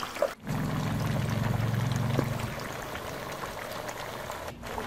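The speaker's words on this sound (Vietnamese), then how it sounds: "mình cứ để lửa lớn với lượng dầu vừa ngập với mặt cá như vậy. Và mình sẽ chiên cho vàng mặt" Mackerel scad frying in oil over high heat, a steady loud sizzle and crackle that runs throughout with no talk.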